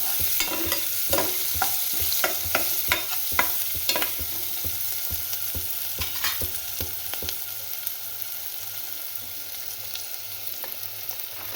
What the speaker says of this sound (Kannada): ಸೊಪ್ಪು ಒಗ್ಗರಣೆ ಹಾಕೋಣ.